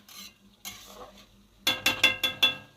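Spoon scraping and clinking in a pan while chicken feet are stirred with Kashmiri red chili powder and spices, a few soft scrapes followed by five quick, loud rhythmic knocks near the end.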